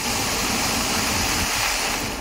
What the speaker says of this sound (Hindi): बहाव इतना तेज था कि उसे देखकर लगा कि मानो वहाँ कोई झरना बह रहा हो